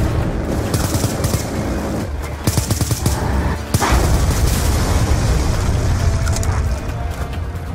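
Heavy gunfire and explosions rage through a Call of Duty: Black Ops II battle as a rocket fire support strike lands, with dense overlapping machine-gun bursts and booms sustained loudly throughout.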